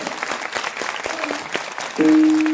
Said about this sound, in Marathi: सर्व या महाराज मंडळी करता सर्वांनी जोरदार टाळी वाजवा